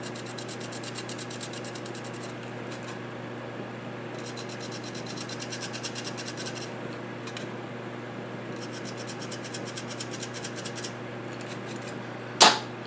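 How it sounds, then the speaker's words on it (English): Repeated rapid scraping of a fiberglass pen across an arcade monitor circuit board while repairing a 27-inch K7500 chassis, in bursts of quick fine strokes over a steady low hum, close and clear, ending with a sharp click. "break out the fiberglass pen. And we'll scrape some of this away here."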